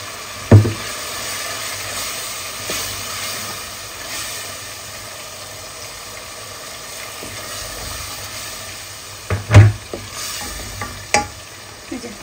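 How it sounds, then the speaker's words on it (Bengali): Ground cumin, chili and turmeric frying in oil in a pan, a steady low sizzle broken by a few sharp knocks of stirring near the start and near the end, with no voices. "মশলাটা কষাইতে হচ্ছে।"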